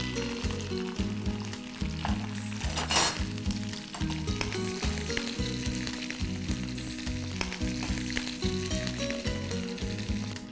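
Green chillies frying in hot oil in a pan for barley vegetable soup, a dense continuous sizzle with occasional stirring clinks, close and steady for the whole stretch.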